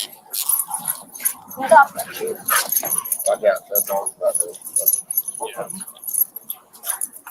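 A dog whimpers and yips in short, high bursts close by at an arrest beside a car, mixed with tense talk, jangling keys and scuffling.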